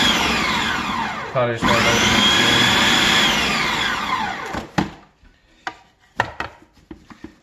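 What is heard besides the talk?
blender pulsing sweet potato and black bean burger mix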